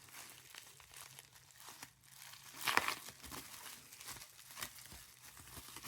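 Plastic watch packaging for a SKMEI, QINGXIYA or Pagani Design watch crinkles as it is opened, quiet and close, with one sharper rustling burst in the middle.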